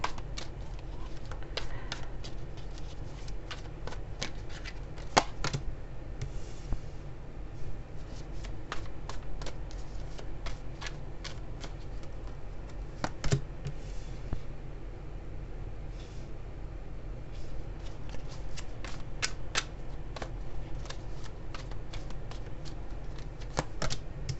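A tarot card deck is shuffled continuously, giving a close, crisp run of riffling flicks and soft slaps at an uneven rhythm, with no voice over it.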